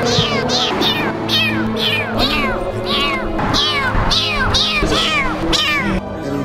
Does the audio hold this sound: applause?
no